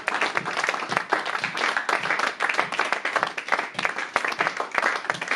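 Church congregation breaking into sustained, dense applause, many hands clapping steadily and close for several seconds, with faint voices mixed in.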